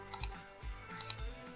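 A few quick keystrokes on a computer keyboard as a variable name is typed, small crisp clicks in two short bursts separated by a pause, close and fairly quiet, with a low hum underneath.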